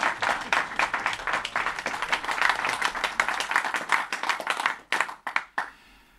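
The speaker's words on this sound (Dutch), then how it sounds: "Toch een applaus voor Auke." Lively clapping from a crowd at a Frisian PVV party gathering, honoring an absent member home with flu, strong and rapid before breaking into a few scattered final claps and fading out.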